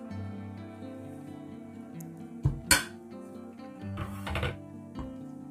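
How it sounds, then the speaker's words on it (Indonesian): A spatula stirring and folding whipped butter into cake batter for lapis Surabaya, giving soft scraping with a few sharp clinks and knocks against the bowl, near and otherwise fairly quiet. "Butter yang sudah kita kocok tadi, kita aduk, kita campurkan, kita aduk sampai merata."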